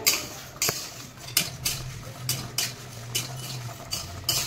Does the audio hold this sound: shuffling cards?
no